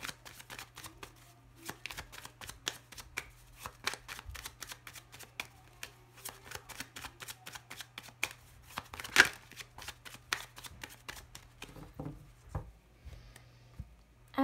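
A deck of tarot cards being cut and shuffled on a table, a quick run of crisp, rhythmic flicks and riffles with brief pauses, close and fairly quiet over a faint low hum.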